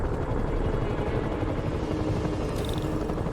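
A helicopter in the video game Marvel's Spider-Man thrums with a loud, steady rotor chop, close and continuous over a dense rumbling bed, with a brief high electronic tone near the end.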